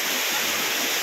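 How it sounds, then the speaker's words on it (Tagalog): Pulang Bato Falls waterfall in the Valencia countryside near Dumaguete City pours in a loud, steady, dense roar of rushing water, close and continuous with no voices. "Ito naman kami ngayon sa may Pulang Bato Falls."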